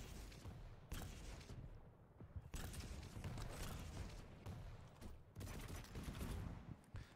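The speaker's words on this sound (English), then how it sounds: "That's a really good spam rocket." Rocket launcher spam during a Quake match at QuakeCon 2019: rapid bursts of rocket fire and blasts in quick succession, fairly faint and continuous, with brief lulls between volleys.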